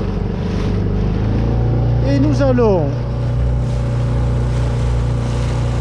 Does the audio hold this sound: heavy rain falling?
no